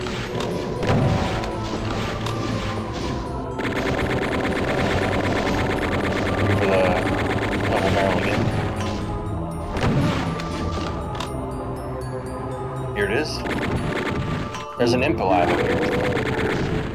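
A Chaingunner enemy in Doom fires its chaingun in loud, rapid sustained bursts amid layered game explosions and effects, with someone talking over the dense din.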